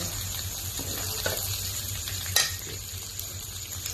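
Steady crackling sizzle of food frying in a pan, with a brief clink of a utensil partway through.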